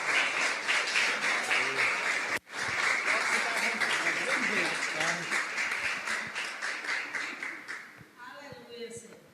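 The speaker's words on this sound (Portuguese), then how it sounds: "Vamos receber o homem de Deus com as palmas bem alegres para Jesus." A church congregation claps to welcome the preacher, a dense, lively round of applause after a short break, fading near the end as a voice begins to speak.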